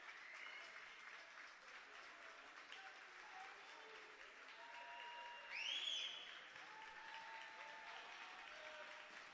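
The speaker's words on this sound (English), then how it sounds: "Pingry fans on their feet now applauding these seniors." A crowd of fans at a high school basketball state tournament game applauds steadily, sustained clapping from many hands at a moderate distance, with a brief whistle or cheer rising midway.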